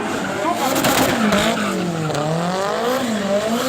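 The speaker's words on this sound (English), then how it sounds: "shows a car maneuvering around the woman at high speed" A car driven at high speed in tight circles around a woman on a road as onlookers watch, its engine revving steadily with tire squeal and skidding, loud and continuous with voices and crowd noise mixed in.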